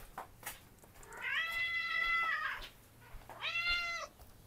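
A pet cat named Lingling meows at feeding time, two drawn-out, close, clear meows, the first longer than the second, with a few soft clicks between them.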